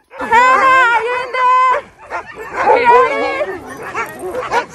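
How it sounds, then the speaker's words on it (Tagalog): A team of Alaskan sled dogs bark, howl and yip excitedly together in loud, overlapping, nearly continuous cries close by. "Grabe ang iingay ng mga aso."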